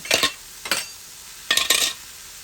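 Mashed beans browning in a pan, with four short bursts of scraping and clinking from a utensil against the pan, close up, separated by quiet gaps and no talking.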